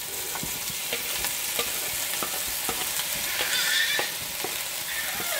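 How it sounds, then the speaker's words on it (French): Onions going into a sizzling pan while cooking beef bourguignon, a steady frying hiss throughout with scattered stirring clicks and scrapes, close and fairly loud. "Donc là, on va mettre les oignons en même temps."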